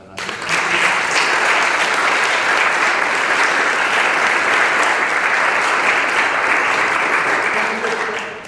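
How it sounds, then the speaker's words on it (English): An audience at a book launch on class politics and trade unions breaks into steady, full applause that holds evenly for several seconds before tapering off. "So if we could just have a round of applause for Herman."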